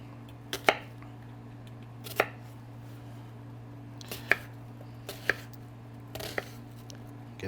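A knife dices an onion on a cutting board in a cooking demo, about six sharp, separate chops spaced roughly a second apart over a steady low hum, with no talking.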